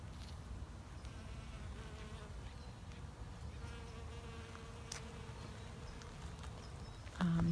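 Faint, steady buzzing of bees hovering close by on phacelia flowers in a sunny native garden, a soft droning hum over quiet outdoor background.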